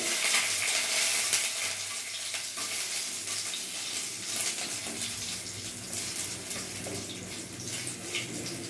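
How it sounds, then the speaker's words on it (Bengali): Whole dried red chillies and spices fry in hot oil for a vegetarian tempering, giving a steady, dense sizzle that holds close and fairly loud throughout with no voices. "ফোড়নটা ভাজা ভাজা হবে"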